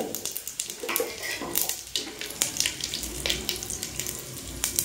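Whole garam masala spices fry in hot ghee in a pan, making a continuous crackling sizzle with scattered pops, close and moderately loud.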